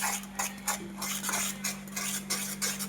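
A spoon stirs a coconut mixture for laddoo in a pan over the stove, giving rhythmic scraping strokes about twice a second, close and moderately loud, over a constant low hum, with no speech.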